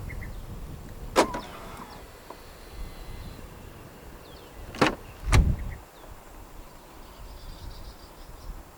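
Outdoors, a few sharp clicks and a short mechanical clunk as a 2023 Jaguar I-PACE electric SUV unlocks via its door handle button, with faint insect chirping in the quiet background.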